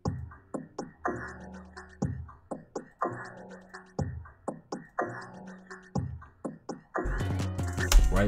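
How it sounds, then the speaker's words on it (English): Percussion loop from the Producer Grind drum kit, a repeating pattern of punchy hits with crisp upper ticks cycling roughly every second, loud and alone, ending in a denser, brighter burst near the close. "We got the perk loop from the Producer Grind drum kit."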